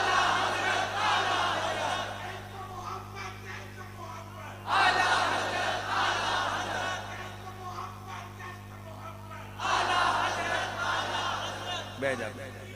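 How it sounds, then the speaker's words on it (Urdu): A crowd at a religious gathering chants slogans together in three loud, surging rounds spaced a few seconds apart, with a steady hum underneath and quieter stretches between the shouts. "لگاؤ نعرہ"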